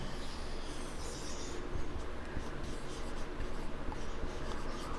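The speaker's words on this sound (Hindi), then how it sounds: "इसको यहां पर लिख लेते हैं।" Handwriting during a Hindi grammar lesson, a continuous scratchy rubbing of pen or marker strokes, close and fairly steady throughout, with no speech over it.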